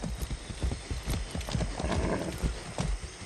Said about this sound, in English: I haven't ridden a horse since basic training.